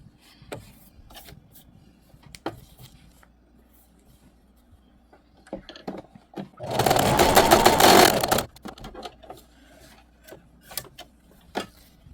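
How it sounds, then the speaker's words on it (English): A sewing machine stitches at stitch length 2 in one loud, close burst of about two seconds midway. Quiet clicks and handling noises come before and after it. "So I will try stitching with this number 2."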